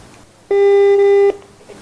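A single loud, steady telephone tone lasting under a second, heard alone while dialing the 1330 health-insurance hotline number, with quiet background before and after.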